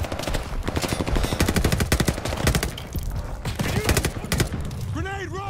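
Call of Duty: Vanguard gunfire: sustained rapid automatic bursts, loud and close, rattling on for several seconds amid battle noise, with faint shouting voices under the shots.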